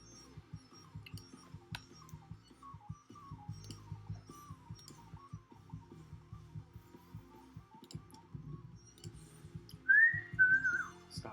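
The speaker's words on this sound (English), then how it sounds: "Stop whistling." A person whistles a wandering tune softly for several seconds, close by over low ticking and thumping background noise, ending with a louder, rising-and-falling whistle.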